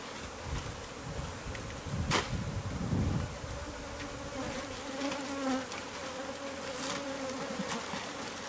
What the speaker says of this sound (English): Biggest bees I've ever seen in my life.